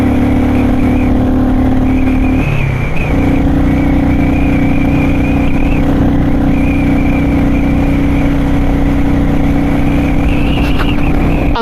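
A Royal Enfield Classic 350 motorcycle with a freeflow exhaust, DNA filter and de-cat idles and revs in a loud, continuous engine drone, with a brief dip in pitch early on and then steady throttle. It is close and alone, with no talk.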